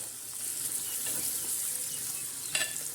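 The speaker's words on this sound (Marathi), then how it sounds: "आपण आता हे वांगे हलवून घेणार आहोत" Brinjals stuffed with ground peanut masala sizzle steadily in a pan while being stirred, with a continuous close frying hiss and a brief scrape near the end.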